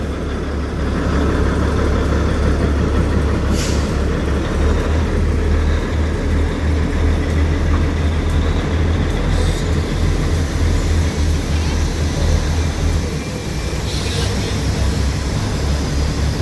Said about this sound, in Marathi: हे त्या काळातली ट्रेन आहे जे की डिझेल लोकोमोटिव्ह आहे